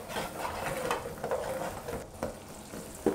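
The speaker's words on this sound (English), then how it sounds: "Heat the oil and we'll start with the onion." Onion sizzling in hot oil at a street food stall, a steady crackling fry with a few louder spatters and stirring scrapes throughout.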